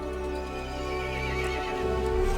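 A horse whinnies loudly in a long, wavering neigh, with faint hoof clip-clops underneath.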